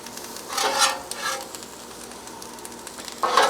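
Vegetables and sausage cooking in a big pan, a soft low sizzle punctuated by a few louder scraping stirs near the start and end, no voices.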